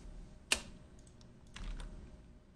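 A few computer keyboard keystrokes at close range, one sharp click followed by a softer cluster of taps, alone over a quiet room hum.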